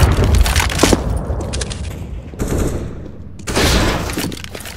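A flashbang grenade goes off in the CS:GO video game during a competitive match, with a dense burst of blasts and gunfire-like cracks at the start and a couple of further loud bursts through the clip.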